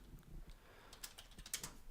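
Typing on a computer keyboard, a faint run of soft, uneven key clicks heard close with no other sound over them.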